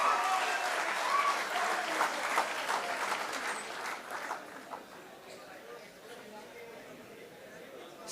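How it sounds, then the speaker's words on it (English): A large crowd claps loudly for students at the opening ceremony of an inter-university squash tournament, dense sustained applause that gradually thins and fades toward the end. "a huge round of applause for the students"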